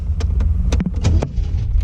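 A 1971 MG MGB cranks and fires up, with a few sharp starter clicks and bursts that settle into a steady low engine drone, close by and with no talking.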